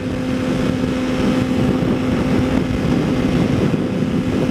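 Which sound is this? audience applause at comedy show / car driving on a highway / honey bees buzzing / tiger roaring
car driving on a highway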